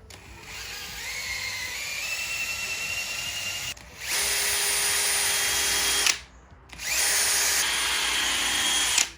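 A power tool buffing a Peugeot 308 GTi headlight whirs loudly and steadily in three long bursts, each stopping abruptly with brief pauses between, close up.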